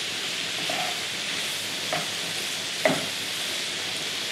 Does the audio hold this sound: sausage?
yes